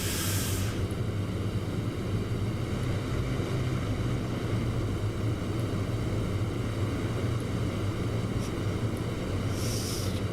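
A de Havilland Mosquito bomber's engines drone in the DCS flight simulator, a loud, steady, unbroken roar that fills the whole stretch, with a few faint clicks over it.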